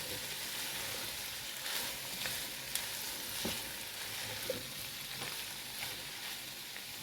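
Sausage sizzles and fries in a pan while being stirred and turned, a constant crackling hiss broken by occasional scraping knocks of a utensil against the pan.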